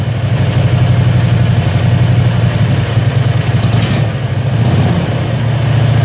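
A Predator 670cc small engine runs loud and steady at close range, with a throbbing mid-pitched drone that holds a constant rhythm the whole time.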